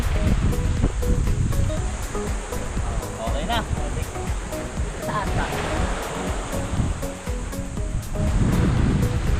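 Ocean surf washes in continuously with gusts of wind on the microphone, while people talk briefly nearby.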